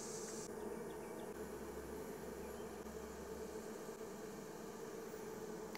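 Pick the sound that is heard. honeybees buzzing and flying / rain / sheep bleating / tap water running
honeybees buzzing and flying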